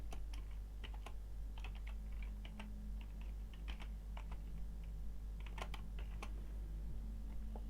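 Quick bursts of keystrokes on a computer keyboard as a formula is typed into a LibreOffice Calc spreadsheet, irregular clusters of clicks over a low steady hum, with no one speaking.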